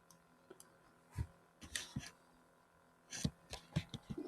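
A computer mouse clicks a handful of times at close range, single and double presses spread irregularly across an otherwise quiet stretch.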